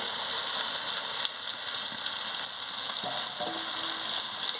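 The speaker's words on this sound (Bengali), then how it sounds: "মাংসটা দিয়ে ভালো করে নাড়িয়ে নিচ্ছি।" Chicken pieces fry and get stirred in spiced oil for chilli chicken, giving a steady close sizzle with a few scraping knocks of the spoon near the end, and nobody speaking.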